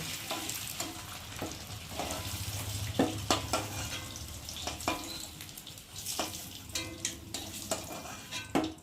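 Eggs fry lightly in a pan for Bengali egg curry, a continuous oil sizzle broken by sharp clicks and scrapes of a spatula turning them.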